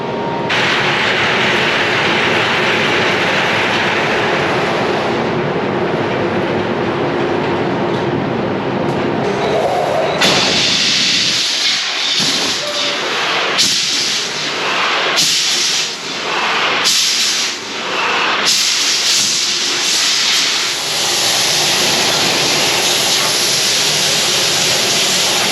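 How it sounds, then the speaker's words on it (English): A two-year-old Bystronic laser cutting machine cuts metal sheet with a loud, continuous roaring hiss and hum, shifting in tone partway through as it moves between cuts, with no voices. "It's a Bystronic 2-year-old laser machine."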